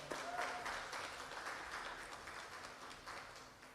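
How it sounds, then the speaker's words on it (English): An audience applauds a state senator at a Baltimore city meeting, a steady wash of many hands clapping that stays fairly loud across the clip and tapers slightly toward the end. "Let's give her a round of applause."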